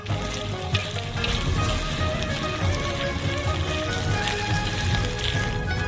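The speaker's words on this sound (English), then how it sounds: "Transfer them into the wok. And mix it for final time." Noodles with cut green onions tossed in a hot wok give a steady, dense sizzle and crackle that runs unbroken throughout, close and fairly loud, with no voices.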